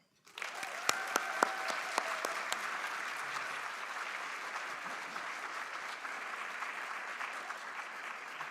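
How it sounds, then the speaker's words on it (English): Audience at a university student leadership awards ceremony breaks into applause for an award winner, clapping starting abruptly with a few sharp nearby claps, then settling into a sustained even wash of applause. "Join me in applauding the winner"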